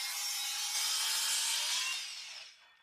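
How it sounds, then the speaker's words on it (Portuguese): A hand saw cuts through the ends of wooden fence slats with a steady, close rasping stroke that fades out near the end, no talk. "Primeiro, eu corto as pontas de cada ripa para deixá-las limpas."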